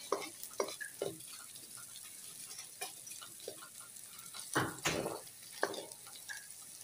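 Garlic frying over medium heat in a pan, a faint sizzle beneath intermittent stirring scrapes and clinks, quiet and close, with no talk.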